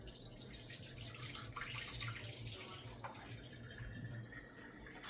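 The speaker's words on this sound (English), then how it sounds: "I'm going to pour this water out and then add the rice." Continuous running and splashing water as water is poured out of a pot and rice is rinsed in a sink, steady and close with no talking.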